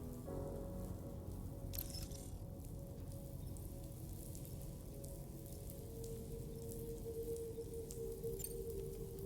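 Continuous patter of rain in the video game Death Stranding 2: On the Beach over a low steady rumble, with a couple of brief sharp clicks; even and unbroken throughout.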